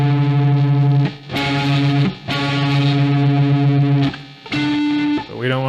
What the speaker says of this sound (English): Sorry about the noisy guitar.